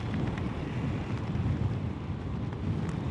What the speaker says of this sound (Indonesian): Wah, anjir, anginnya kenceng banget ya.